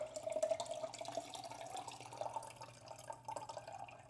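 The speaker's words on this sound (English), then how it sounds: "I'm going to take this empty jar and pour the water back out." Water poured from a jar into a sink or container while preparing fermented pickles, a steady trickling stream with dripping, fairly close and moderately loud, with no talking.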